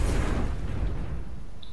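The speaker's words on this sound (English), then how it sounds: "Watch out, big explosion." Big explosion in a Fortnite or GTA V game: a loud, rumbling boom that starts at full strength and slowly decays into a low, roaring tail, with no voices over it.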